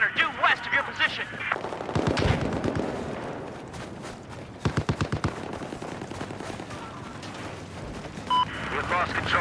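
Bursts of machine gun fire rattle through a military shooter video game, with rapid loud volleys and explosive blasts mixed with radio voice chatter.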